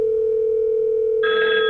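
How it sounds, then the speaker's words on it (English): Inbound call ringtone on a Grandstream UCM phone system: a steady tone sounds, then a brighter multi-tone ring begins near the end, clear and close with no talking. "we hear a much different ringtone"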